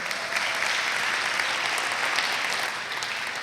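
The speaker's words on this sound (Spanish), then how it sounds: "Dale un aplauso al Señor por eso." Steady applause from a church congregation, dense clapping that holds at an even level for the whole stretch without any voices.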